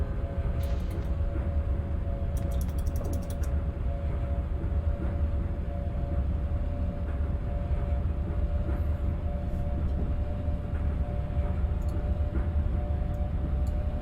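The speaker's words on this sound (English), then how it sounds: "It's mad driving a tram past the class 60." Steady rumbling drone of a tram running past a class 60 locomotive in Microsoft Train Simulator on the Manchester Metrolink, Altrincham to Bury, with constant low motor hum, tonal whine and occasional brief high clicks, continuous and loud throughout.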